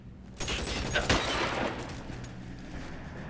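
Shotgun blasts in the LA Noire video game, a burst of heavy gunfire around the first second and a half over steady game music and ambience, then tapering off.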